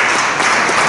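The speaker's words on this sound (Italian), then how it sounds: "Io vi inviterei a fare un applauso a Marcella, che è stata l'autrice" Audience applause at an Italian Christmas program of carols and poetry, honoring the author of a Neapolitan nativity scene; a dense, steady wash of clapping fills the brief moment without a break.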